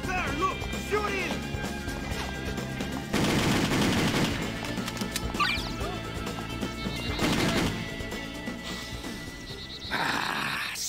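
Gunfire from the video game Just Cause rings out in repeated loud cracks and bursts over game music and ambience, with shouted voices and a horse whinny mixed in.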